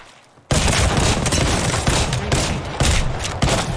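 Rapid gunfire in the Apex Legends video game, a dense sustained fusillade of shots bursting in after a brief quiet moment and continuing loudly with rhythmic peaks throughout.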